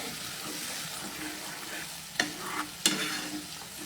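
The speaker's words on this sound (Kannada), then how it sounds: "ಇದನ್ನು ಈಗ ಅದು ಎಣ್ಣೆ ಬಿಡೋ ತನಕ ಫ್ರೈ ಮಾಡೋಣ" Ground paste of green chilli, garlic, ginger and cashew frying in oil, a steady close sizzle with a spoon stirring through it and two sharp scraping knocks against the pan.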